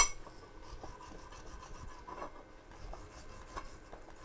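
A spot on metal is scraped clean for a welder's ground clamp on a new anvil stand, a close, continuous raspy rubbing with rhythmic strokes and no talking.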